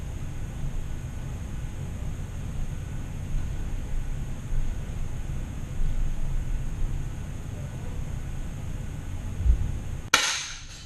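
A target shooting session: a long stretch of steady ambient hum ends with a single sharp, loud gunshot close by, followed by a short decay and no speech.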